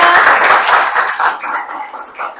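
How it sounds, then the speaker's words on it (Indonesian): Students in a classroom clap for a classmate, a loud burst of close, dense handclaps that thins out and fades toward the end. "Tepuk tangan dulu untuk temannya"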